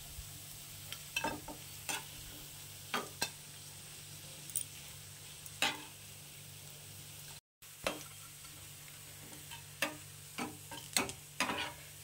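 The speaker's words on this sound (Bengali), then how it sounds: "তো দেখুন বন্ধুরা ভেজে ফেলেছি বড়া" Coriander leaf fritters in oil, a faint background sizzle broken by scattered clicks and taps of the fritters being lifted out one by one.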